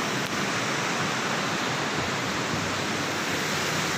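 River water flowing at Roing in Arunachal Pradesh, a continuous broadband rush that stays loud and even throughout with no voices.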